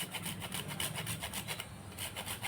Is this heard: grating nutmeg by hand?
yes